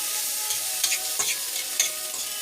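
Butter and a few pieces of lettuce sizzling in a hot pan, a steady crackling fry with a few scraping stir strokes on top; no talking.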